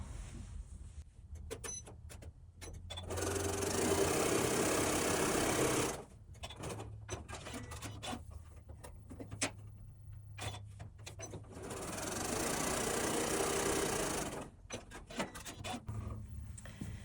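Sewing machine stitching half square triangles of Liberty fabric for a quilt, two loud close bursts of rapid whirring separated by quieter clicks and fabric handling.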